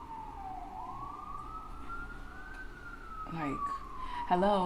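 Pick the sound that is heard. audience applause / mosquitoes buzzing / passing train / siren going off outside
siren going off outside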